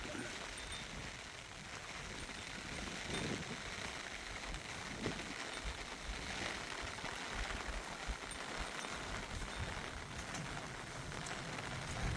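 Rain falling over a field of harvested rice, a continuous soft hiss of drops on surfaces, steady and fairly quiet throughout with no voices.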